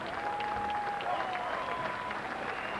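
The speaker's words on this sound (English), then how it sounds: "Your applause, please, for a boxer who pushed him certainly all the way" Crowd at a boxing event in Reading applauds a boxer after a fight, a soft, even wash of clapping heard from a distance with a faint voice drifting through.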